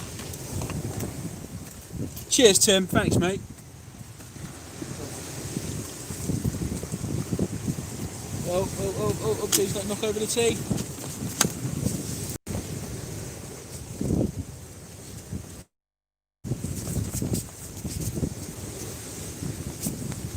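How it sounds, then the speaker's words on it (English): Strong wind gusts roar and buffet the microphone in waves at the back of a tent on Eastbourne beach while people exchange a few brief words. The flapping and rustling rises and falls, with one short dropout. "That's how windy it is."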